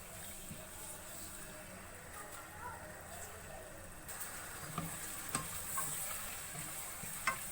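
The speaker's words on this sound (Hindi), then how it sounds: "कलर चेंज होने तक हम इसको करेंगे फ्राई मसाले के साथ" Boneless chicken fries with masala in a pan for pulao, a quiet, steady sizzle with faint stirring scrapes and a few light knocks, fairly distant and low in level.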